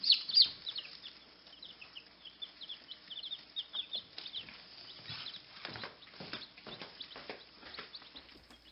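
Newly hatched Jersey Giant chicks and chickens chirping and clucking close by in a steady, busy stream of high calls, with occasional soft rustling and wing movement.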